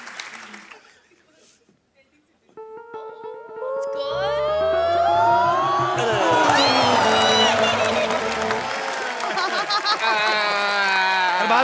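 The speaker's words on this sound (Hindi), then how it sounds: "जोरदार तालियां फॉर द नेक्स्ट प्लेयर।" A studio audience bursts into loud, sustained applause and cheering for the next player on a comedy show, swelling after a quieter start with music playing over the clapping.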